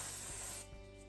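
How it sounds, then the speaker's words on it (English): Root spray hisses steadily from a can onto hair for about half a second, close and fairly loud, then cuts off, followed by a couple of soft handling thumps. "I'm taking the root spray."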